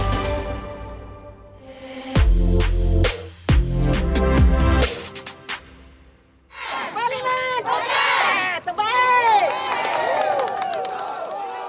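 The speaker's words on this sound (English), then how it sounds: "That's the sound of Najib supporters who gathered at the courthouse throughout the week." Supporters of Najib massed outside a courthouse, shouting and cheering in loud bursts with deep rumbling hits early on, a brief lull, then a dense roar of many overlapping voices chanting and yelling close by.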